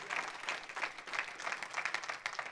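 A church congregation applauds in a continuous wash of clapping from many people, steady and even in intensity with a faint, slightly distant quality.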